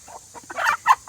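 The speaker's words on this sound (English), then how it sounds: "There's another hen in there." Hens clucking in a backyard pen with turkeys nearby, a short burst of close, choppy clucks rising to two louder squawks, no talking.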